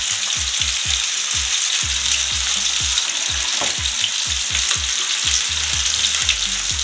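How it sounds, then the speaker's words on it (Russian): Continuous hissing sizzle of chuck roll steaks frying over high heat, punctuated by frequent soft pops and low thuds from the pan. "Обжариваем на сильном огне до появления золотистой корочки."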